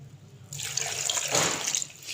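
Water pours into a jug of chopped carrots, starting after a brief pause as a close, steady splashing rush that thickens midway and continues to the end.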